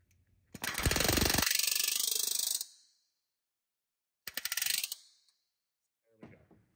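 A rivet gun drives a rivet on a Rans S-21 aircraft rudder, a loud close burst of rapid hammering lasting about two seconds, then a shorter second burst after a silent gap, and a faint tap at the end.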